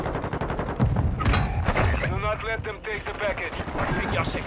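Dense, sustained gunfire from a Call of Duty Modern Warfare II match: rapid overlapping bursts and heavy shots fill the whole stretch, loud and close, with a voice talking over parts of it.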